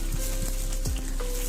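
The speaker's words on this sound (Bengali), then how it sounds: "প্রথমে কড়াইতে তেল দিয়ে পটলগুলোকে আগে ভেজে নিন।" Pointed gourd pieces fry in oil in a wok, giving a dense, steady close-up sizzle with a few soft stirring scrapes.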